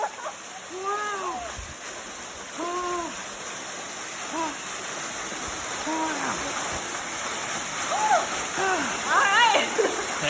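A steady roar from the Lekdush double waterfalls and splashing water from someone swimming below them, with excited voices shouting and exclaiming over the constant rush throughout.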